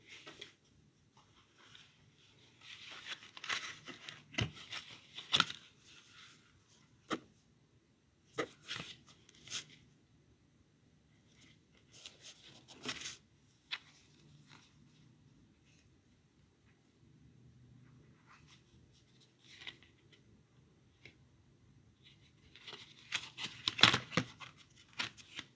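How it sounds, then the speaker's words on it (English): Tarot cards are shuffled by hand in close, quiet bursts of papery riffling and flicking, separated by silent pauses, with a cluster of louder shuffles near the end. "I'm just going to shuffle one more time"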